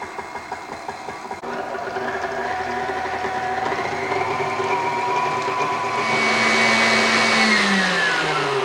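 Electric mixer beating buttercream frosting, started on low and then sped up: a steady close motor whine that climbs in pitch and grows louder toward the end, with no voices.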